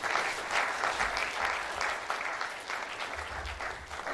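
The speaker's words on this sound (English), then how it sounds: "Let's give another round of applause for the Vice Chancellor." Applause for a vice chancellor at a valedictory lecture, a dense, continuous wash of clapping from a large audience, fairly distant and soft, holding steady for several seconds.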